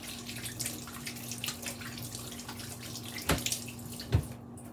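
A kitchen tap runs steadily into a stainless steel sink as hands are washed with soap, a continuous close water stream with a couple of brief splashes and knocks, no talking.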